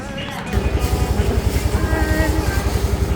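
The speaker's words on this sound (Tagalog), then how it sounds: "Ito na yung motor namin." A white motor scooter idles and pulls away on a street in Chiang Mai at night, its close, loud engine throbbing in a fast, steady pulse under faint background noise.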